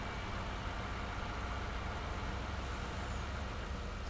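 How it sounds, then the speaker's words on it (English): Truck in the Farming Simulator 19 video game: a constant, dense engine rumble that holds steady and fairly loud throughout, with no talking. "Move the truck out of here, it's right in my way."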